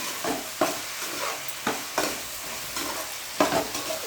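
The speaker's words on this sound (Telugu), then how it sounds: "ఇలా మళ్ళీ అంతా బాగా ఒకసారి కలుపుకోవాలి" Cooked okra (bhindi) curry stirred in a pan, with soft sizzling under a series of spaced scraping and clinking strokes of the spoon, close and fairly quiet, with no voices.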